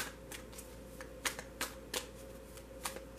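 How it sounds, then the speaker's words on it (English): A few tarot playing cards dropping and being handled during a reading, faint papery flicks and soft slaps scattered irregularly over a quiet room hum. "Hold on, a couple cards just fell."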